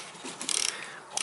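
Socket tool clicking and grinding against a bolt while a Toyota Corolla rear brake (2002–2012 model) is worked on, a quiet close burst of ratcheting mechanical rattles with a short pause.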